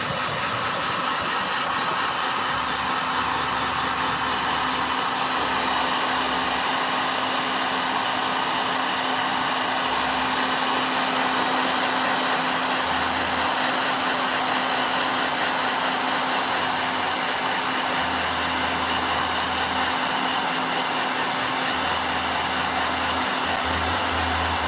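A blow dryer runs steadily and fairly loud throughout, with a constant whooshing airflow and a fixed motor hum, and no one speaks over it.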